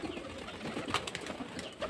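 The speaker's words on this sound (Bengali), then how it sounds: "দেখুন টুকটুক সব পায়রা নিচে লেবে যাচ্ছে" Pigeons coo softly while settling down to the ground during a pigeon-training session, a few low murmuring calls blended with faint wing and ambient noise, no one speaking.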